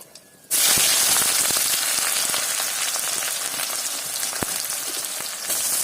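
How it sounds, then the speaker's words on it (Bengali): Onions frying in a pan for a Bengali coconut chicken dish, starting with a sudden loud sizzle that holds as a steady, dense crackle with a few sharp pops; no talk. "পেঁয়াজটা একদম ব্রাউন করে ভাজতে হবে"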